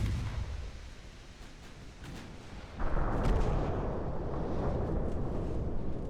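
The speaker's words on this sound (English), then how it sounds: "Got torpedoed instead." A torpedo strikes a warship during a naval battle in Ultimate Admiral: Dreadnoughts, set in an 1894 Ottoman campaign off Crete, with a sudden heavy boom that rolls into a sustained loud rumble over low ambient battle noise.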